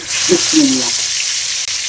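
Fish pieces going into hot oil one by one, with a loud, steady sizzling hiss throughout and a brief voice near the start.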